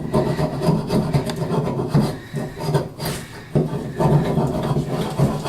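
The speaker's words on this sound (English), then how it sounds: "Now you take yourself a piece of 3/4 inch pipe that's still got the burr inside of it and use it to scrape off paint." A burred 3/4 inch pipe scrapes paint and drywall mud off a surface in steady, rough rasping strokes, close and loud, with brief pauses between passes.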